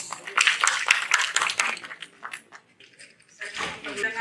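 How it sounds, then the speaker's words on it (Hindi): An audience at a golden jubilee gathering in Patna claps in welcome for a speaker, a brief burst of close, uneven hand claps that fades before talk resumes. "एक बार तालियां स्वागत में"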